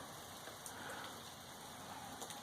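Steady rain falls on the Appalachian Trail, a soft, even hiss with occasional faint drops tapping nearby, continuous and quiet.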